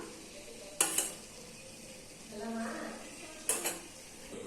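A spoon works thick Ashoka halwa around a pan, making two short scraping clinks against the metal with a soft bubbling stir between them. The sounds are quiet and close by.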